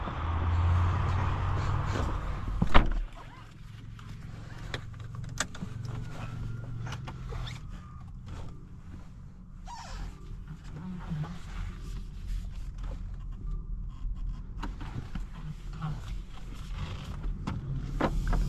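A 2025 BMW X5 xDrive50e M Sport plug-in hybrid pulls away onto the road, heard from inside the cabin. A short mechanical whir comes first, then a steady low drive and road hum with faint clicks, and no one speaks.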